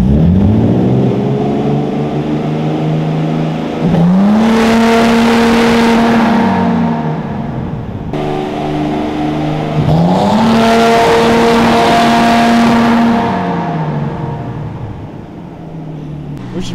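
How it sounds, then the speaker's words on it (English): A car with launch control engaged revs loudly and close by in two long, rising engine pulls, each climbing in pitch, holding, then dropping back before the next. "So we just activated the launch control on this bad boy."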